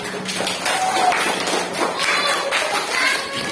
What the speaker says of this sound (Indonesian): kita beri tepuk tangan untuk Desi